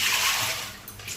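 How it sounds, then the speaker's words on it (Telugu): Puffed rice (borugulu) being rinsed in water for upma in a home kitchen, a steady close splashing and sloshing of water for about a second, with no talk. "దానికి ఫస్ట్ మనం బొరుగులు వాటర్లో కడిగి పెట్టుకోవాలి."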